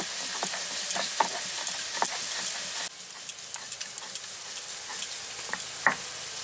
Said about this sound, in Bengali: এরপর আমি শিলনোড়ায় আদা দেব, আদাটা একটু বেটে নিচ্ছি